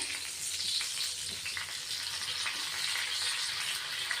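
Stuffed green chillies frying in a pan over a low gas flame, a continuous bright crackling sizzle with small pops, close and steady, with no voices.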